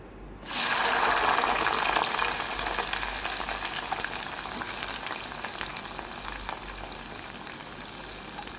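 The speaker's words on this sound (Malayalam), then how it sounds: "ബാക്കിയുള്ള പാവയ്ക്കോടെ നമുക്ക് ഇതുപോലെ ഫ്രൈ ചെയ്തെടുക്കാം." Slices of bitter gourd dropped into hot oil, a sudden loud sizzle that bursts in and keeps crackling steadily, close up with no voices.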